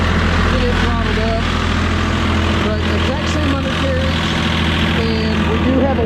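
Engine of a Vermeer CTX160 mini skid steer throttled up on a cold day, a steady loud continuous drone running throughout with voices talking over it.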